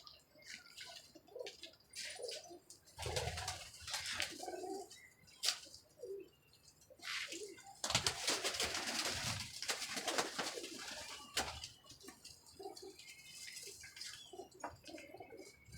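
Pigeons cooing in a series of soft, low, throaty calls close by, coming in uneven bursts with brief pauses, mixed with rustling and a few sharper chirps.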